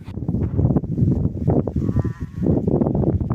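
A flock of sheep caught in heavy snow and blizzard in Erzincan bleats loudly and continuously, many overlapping calls near and far with a rumble of movement underneath.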